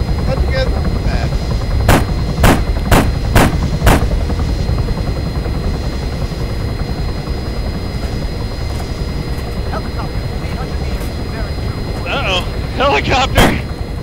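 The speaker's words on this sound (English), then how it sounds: "Helicopter! Whoosh!" Helicopter in the Arma 3 military video game passing amid bursts of loud gunfire, with sharp repeated shots early on and a rising, whooshing engine sweep near the end.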